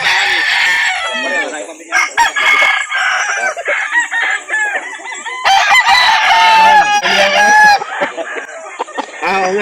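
Roosters crow repeatedly among clucking hens at a busy chicken market in Calauan, loud and close, with several overlapping calls and brief pauses, and voices murmur faintly.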